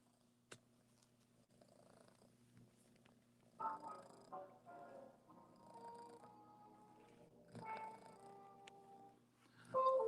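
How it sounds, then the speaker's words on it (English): A cat purrs softly and steadily nearby in a quiet room, with faint rustling and a few brief louder noises over the low rumble. "You hear this cat purring?"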